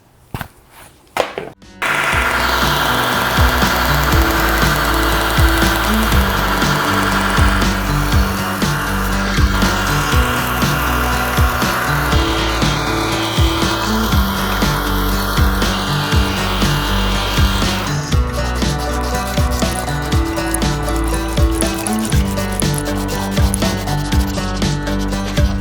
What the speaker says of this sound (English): I just got done, buffing all the crap off of this from etching it